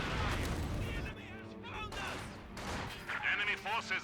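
Light artillery barrage from a ZiS gun in Company of Heroes 2: a dense opening second of loud booming blasts, then scattered explosions and crackling gunfire mixed with in-game voices and battle noise.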